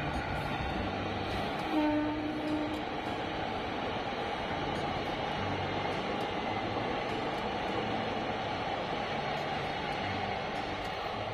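A train runs along the Ahmadpur–Katwa railway line past a temple, a steady broad rumble of moving carriages with a brief horn-like tone early on.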